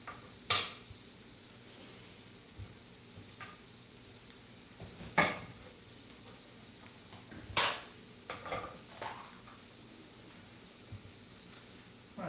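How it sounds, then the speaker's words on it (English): Spoon stirring beans in a pot on a back burner of a stove, several scattered clanks and scrapes against the pot over low background hiss, with no talking. "So you are going to have to stir those occasionally"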